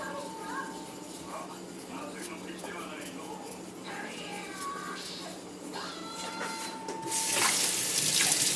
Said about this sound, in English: If not enough water, we can add little by little.